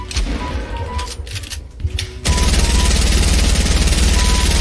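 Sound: gunfire in a video game

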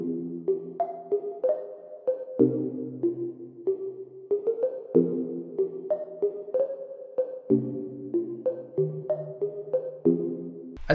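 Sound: ambient bell sound in FL Studio without halftime

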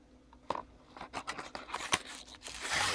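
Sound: unwrapping cellophane wrap from Lutz Cavalier razor blades

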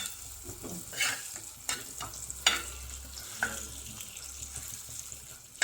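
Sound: fish frying in oil on a griddle

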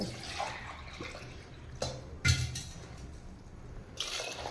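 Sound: water poured into jaggery to make syrup

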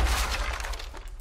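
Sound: explosion next to the player in Rainbow Six Siege video game

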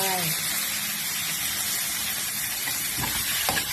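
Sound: snakehead fish added to hot pan sizzling

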